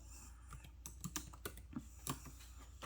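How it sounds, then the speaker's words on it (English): Quiet keystrokes on a computer keyboard during inventory entry, a steady run of soft clicks and taps for about three seconds with no talking. "I'm going to type in bracelets."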